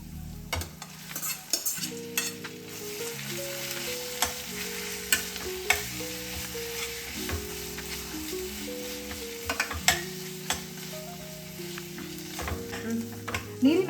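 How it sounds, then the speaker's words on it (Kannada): A paste of ground raw green peas and spinach sizzles and fries in a pan with stirring scrapes and occasional clicks, while steady background music plays throughout. "ನೀರಿನ ಅಂಶ ಕಡಿಮೆ ಆಗೋ ತನಕ ಚೆನ್ನಾಗಿ ಫ್ರೈ ಮಾಡ್ಕೋಬೇಕು"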